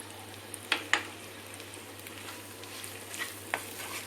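Mutton liver and chili powder frying in a pan, a low steady sizzle with a few sharp clicks of a spoon stirring, quiet and close, no voices.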